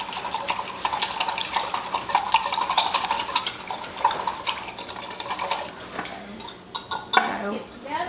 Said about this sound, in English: So whisk it together